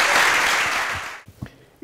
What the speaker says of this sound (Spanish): os pido un fuerte aplauso para Rodrigo